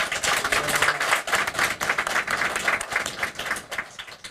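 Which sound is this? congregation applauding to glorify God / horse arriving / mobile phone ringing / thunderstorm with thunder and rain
congregation applauding to glorify God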